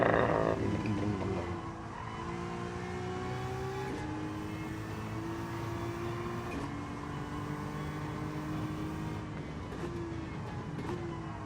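A race car engine in Gran Turismo 7 climbs through the gears in repeated rising whines with brief shift breaks, loud and steady, with crackling under braking and no talk.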